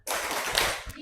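Children in a classroom clap out a chant in a short, dense burst, close and lively, with young voices mixed in.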